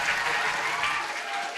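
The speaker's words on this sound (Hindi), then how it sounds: "तो एक बार इनके लिए जोर से ताली होना चाहिए।" An audience gives steady, dense applause for a rank holder at a lecture event, a continuous wash of clapping throughout with no pauses.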